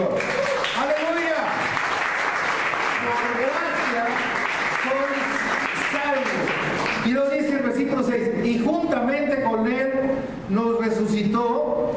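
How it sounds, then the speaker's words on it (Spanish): Church congregation clapping hands together in steady sustained applause, heard beneath a voice speaking and praising throughout. "Denle una ofrenda de palmas al Señor."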